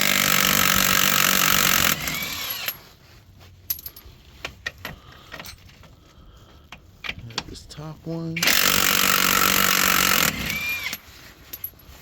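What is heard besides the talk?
impact wrench removing nuts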